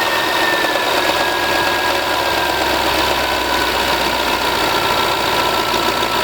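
A Land Rover/Jaguar 3.0L/5.0L engine settling to idle during a low oil pressure test: a loud, steady, close mechanical drone with a constant whine and even vibration throughout, no talking.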